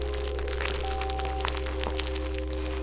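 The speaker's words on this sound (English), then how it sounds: "To create this library, we had to record all kinds of crackles." Crackle noises recorded for a sample library sound as dense, fine crackling, steady and close, over a constant low hum with thin tonal whines.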